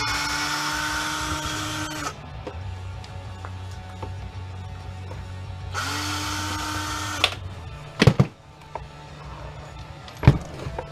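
A power drill whirs in two sustained bursts while backing screws out of a Husky jump starter's casing, followed by a few sharp clicks and clatters of the tool and parts nearby.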